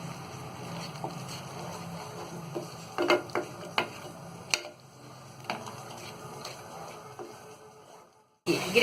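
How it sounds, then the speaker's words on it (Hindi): Chole gravy frying on low heat while a spoon keeps stirring it, giving a steady sizzle with repeated scraping clinks against the pot, close up and without talk, before a brief dropout near the end. "अब इसे हम अच्छी तरह भूनेंगे और चम्मच हम चलाते रहेंगे ताकि ये नीचे चिपके ना"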